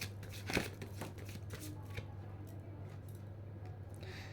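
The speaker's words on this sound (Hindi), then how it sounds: "ओके नाउ लेट्स सी हमारे लिए क्या गाइडेंस कार्ड्स आ रहे हैं।" Tarot guidance cards are shuffled quietly, with one soft riffle early on followed by faint papery rustling and light ticks, all at low volume.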